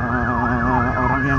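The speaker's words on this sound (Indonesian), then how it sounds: "ambulans mulu dari tadi. Ambulans mulu guys." An ambulance siren passes at night during a ride on a 2022 Honda CBR 150R motorcycle. Its loud, close wailing sweep rises and falls continuously over the low road noise.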